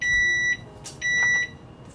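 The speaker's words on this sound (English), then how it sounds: "I'm gonna set the timer for 10 more minutes" Kitchen timer beeping while homemade guinea pig treats bake, two long steady electronic beeps separated by a short gap, loud and close with nothing else over them.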